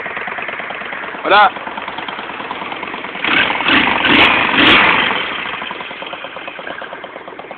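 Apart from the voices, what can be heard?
custom motorcycle engine idling, valves audible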